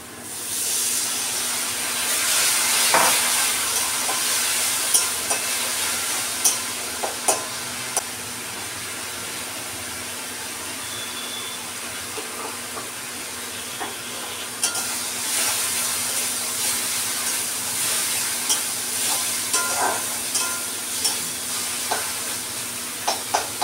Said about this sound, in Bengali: মশলা কষানো হয়ে গেছে, মশলা থেকে তেল ধরে গেছে